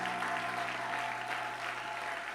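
A church congregation claps together in a steady, dense round of applause that continues evenly throughout, heard from within the room at a moderate level, with a faint low hum underneath.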